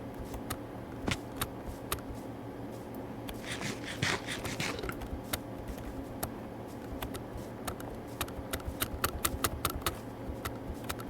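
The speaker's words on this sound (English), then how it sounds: "I can hear my keyboard." Someone types on a computer keyboard nearby, with irregular clicking keystrokes in quick runs over quiet room noise and a soft rustle partway through.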